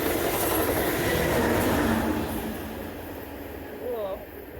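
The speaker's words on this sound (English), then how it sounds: "You can see the Amtrak go past." An Amtrak train rolls past outdoors with a loud, steady rushing rumble that slowly fades, ending with a short wheel squeal.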